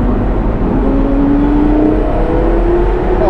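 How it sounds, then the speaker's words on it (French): A Porsche Carrera GT's V10 engine revs loudly inside the car on a winding road, with a steady, rising engine tone and road roar held close throughout. "moi je trouve que les V10, c'est les meilleurs moteurs"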